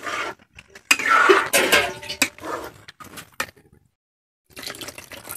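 Water splashes and gurgles into a metal pot of fried spices for fish curry amid clanking cookware, followed by a short pause and more light clatter.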